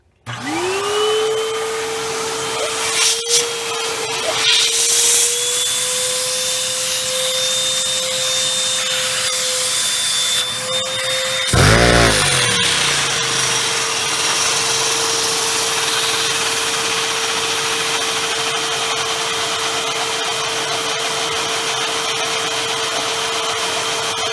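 A small engine running on WD-40 starts up and settles into a steady, loud, whining drone that rises slightly as it speeds up, with a brief rattling clatter midway and no voices.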